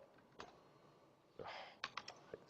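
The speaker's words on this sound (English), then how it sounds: "Keyboard." Sparse computer keyboard keystrokes, a few scattered clicks and taps at close range with a quiet pause between bursts, no talking.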